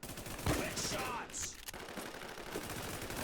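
Dense, rapid video-game gunfire in a busy firefight, with bursts of shots layered over a constant noisy backdrop of game sound effects.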